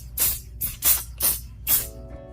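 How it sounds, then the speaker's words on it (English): Mold release spray spritzed onto resin skull molds in five short hissing bursts, close and fairly loud, evenly spaced with brief gaps between them and no talking. "I am just going to spritz on this mold release"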